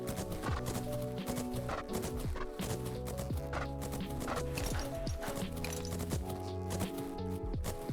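Horse hooves cantering in the video game Fernhoof Grove, a steady rhythmic clip-clop of repeated hoofbeats over a continuous tonal music bed, even and moderately loud.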